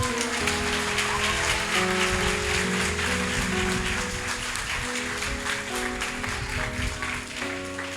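A church congregation applauds steadily, a dense, continuous wash of clapping over sustained organ or keyboard chords, with no break across the whole stretch.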